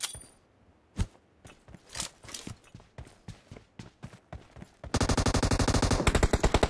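Crossfire in the PUBG Mobile battle royale video game: scattered single gunshots crack at first, then from about five seconds a loud, continuous burst of rapid automatic fire dominates.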